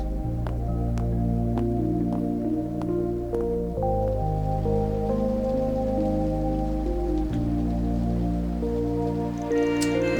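Rain falling over a city in the video game Trails Through Daybreak, a steady wash of drops mixed under sustained game music tones, with no talking.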